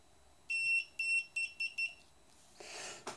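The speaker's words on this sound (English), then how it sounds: "Got a multimeter, and it should beep for continuity." A short series of high electronic beeps from a multimeter continuity test, one longer then several quick chirps, sounds close and clean before a brief rustle of handling.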